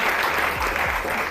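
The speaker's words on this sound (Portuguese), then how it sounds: "Um grande aplauso aos nossos convidados" Studio audience on a Portuguese afternoon TV show breaks into steady, dense applause, a continuous wash of clapping that holds level throughout without a break.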